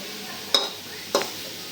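Mustard oil goes into a pan of boiled, softened greens, giving two brief sizzling bursts about half a second apart, fairly faint and with no voices.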